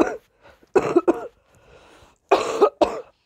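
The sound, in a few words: cough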